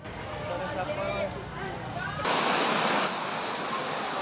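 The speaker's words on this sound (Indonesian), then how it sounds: "Namun beberapa motor tidak terselamatkan terbawa arus deras hingga ke hulu sungai." Floodwater from a flash flood surges in a loud, continuous broadband roar, growing heavier partway through, with faint voices under the rush.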